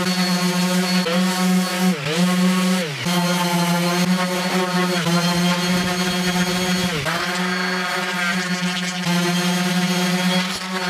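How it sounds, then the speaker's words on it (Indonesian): Loud, continuous power sanding on wood, a steady motor whine with strokes that dip and surge every few seconds, no voices. "sekarang kita amplas dulu"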